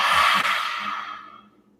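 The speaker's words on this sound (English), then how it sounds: "On an open mouth exhale, stick the tongue out. Lion's breath." A breathy open-mouth exhale done as lion's breath in a vinyasa yoga practice, tongue stuck out, one long forceful sigh that starts loud and close and slowly fades over nearly two seconds, alone without talk.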